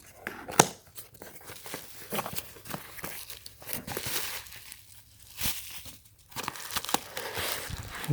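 Packing tape tearing and crinkling on the cardboard shipping box of a Tesla Model X Falcon Wing diecast toy car, with repeated sharp rips and crumpling rustles close by.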